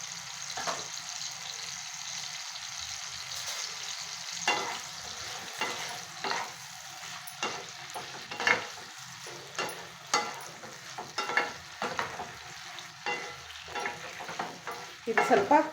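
Unripe banana pieces frying in oil with salt and turmeric, a soft, steady sizzle broken by repeated scraping stirs of a spoon against the pan, fairly quiet and close.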